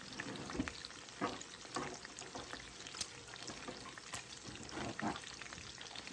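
Bacon frying in a pot for corn chowder, stirred to keep it from sticking. A quiet, continuous crackling sizzle is broken by soft scraping stir strokes at irregular intervals, close to the pan.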